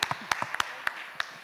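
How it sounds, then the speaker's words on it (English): A live audience at a film teaser launch gives scattered claps to welcome the crew: a handful of sharp, separate hand claps spread irregularly over a moment, fairly distant and moderate in level. "please welcome all of them with another round of applause."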